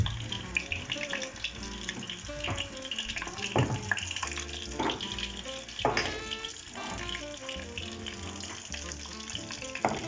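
Meat sizzles in oil in a pan alongside onion, garlic and carrots, a close, steady crackling fry with occasional louder pops and stirring scrapes throughout.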